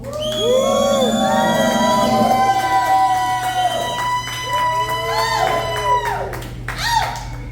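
A live comedy roast battle audience cheers, whoops and claps to vote for Roland Alaniz, a sustained loud crowd roar with shouted whistles and yells that swells and then tapers off.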